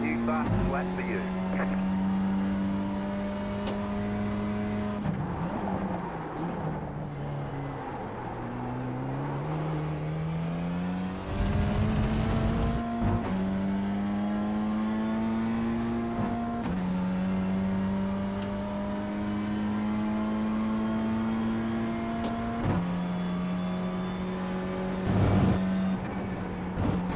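A BMW M2 engine racing around Spa in iRacing, loud and steady, climbing through the revs and dropping through upshifts and downshifts as laps go on, with a held drone on the straights.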